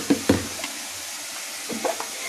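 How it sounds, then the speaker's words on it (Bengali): Ground masala paste with green chilies is sautéed for a prawn malai curry, a low sizzle in the background broken by a few sharp knocks and scrapes of a spoon against the pan. "মশলাটা আমি একটু ভালোভাবে একটু কষিয়ে নিই।"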